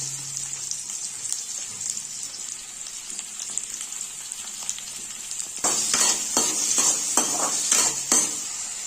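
Shallots, tomato and green chilli sauté in hot oil with a soft, steady sizzle, and partway through a spoon stirs and scrapes the pan in several quick, louder strokes. No one talks.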